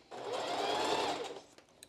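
A sewing machine stitches a strapless bra around a curve in one short, close burst of rapid whirring that rises, holds, and fades, then ends with a couple of small clicks.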